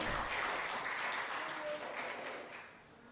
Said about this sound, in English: please clap for Senyo